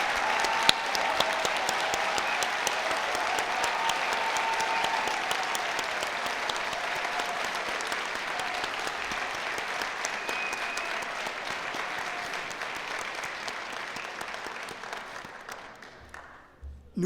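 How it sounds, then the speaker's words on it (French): An audience at a university business school graduation ceremony gives new bachelor's graduates sustained, dense applause that holds steady for a long stretch before fading out near the end. "Applaudissons chaleureusement les nouveaux diplômés des baccalauréats de l'École des sciences de la gestion"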